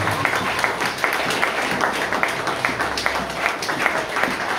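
Church congregation clapping together in a worship service, a rhythmic, sharp patter of many hands with audible individual claps pulsing throughout.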